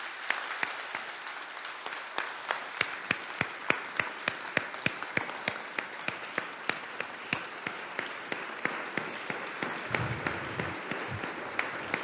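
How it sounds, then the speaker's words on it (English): A church audience at the Lutheran Church of the Redeemer applauds Pastor Mitri Raheb, steady dense clapping with sharp individual claps standing out, sustained evenly for about twelve seconds. "Can we give Pastor Mitri another round of applause?"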